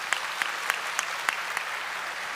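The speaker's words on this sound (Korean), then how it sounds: "함께 크게 박수로 축복해 주시기 바랍니다." A Korean church congregation at a Sunday worship service claps to celebrate a baptism. The applause is steady and moderately soft, with a few sharper individual claps standing out from the continuous patter.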